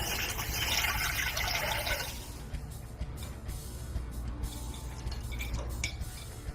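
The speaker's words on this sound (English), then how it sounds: "So we use a bowl and we use a strainer, and we'll get these coffee grinds separated from the water." Cold brew coffee poured through a strainer into a bowl: a loud, continuous gush of liquid at first that thins after two seconds into a quieter trickle with small clinks and drips.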